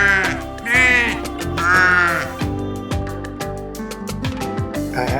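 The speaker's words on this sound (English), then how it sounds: "But I'm a sheep, so all I say is ba," A sheep bleats in two or three long, wavering calls, loud and close, followed by a plucked musical backing with a steady beat.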